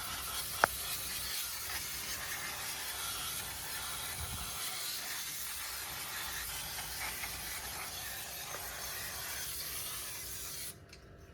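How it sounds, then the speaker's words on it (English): A continuous aerosol spray of brake cleaner hisses steadily for about ten seconds, close by, then cuts off abruptly, on a Ford Focus XR5 brake rotor. "So just got some brake cleaner."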